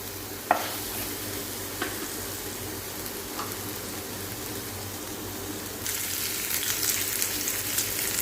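Whole spices sauté in hot oil for a cashew masala, a steady close sizzle with occasional stirring scrapes and a louder, brighter frying hiss toward the end.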